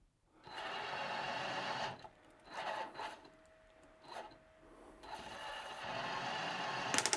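A tapping machine drives a regular hand tap into a metal compressor fitting. Long rasping, grinding bursts are broken by short pauses, with a faint steady whine, then a final loud rasp and the click of the torque brake releasing.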